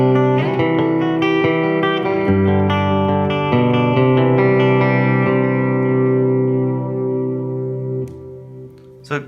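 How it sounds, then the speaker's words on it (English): An electric guitar plays sustained notes through a chorusing delay effect, shimmering repeats trailing behind each note and slowly fading near the end, played alone without voices. "You may hear the note kind of do a chorusing sound."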